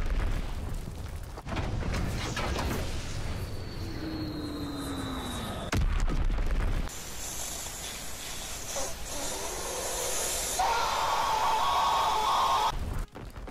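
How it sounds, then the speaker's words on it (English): A bomb going off in a World War 2 video game: a deep boom followed by long roaring and hissing debris and rumble, with shifting blasts and a sustained noisy wash that cuts off abruptly. "There's gonna be a bomb."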